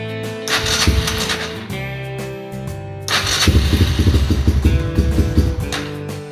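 A Honda Fourtrax ATV that has not been run in a while sputters to life on a chilly day and settles into a steady, close-up idle with an uneven chugging rhythm.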